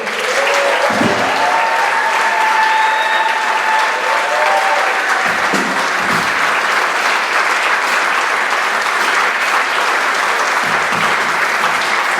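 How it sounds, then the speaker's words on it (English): A crowd applauds a high school jazz ensemble at a concert, a steady, dense roar of clapping that continues evenly from start to finish without talk. "Please give a round of applause to West Burlington High School Jazz Ensemble"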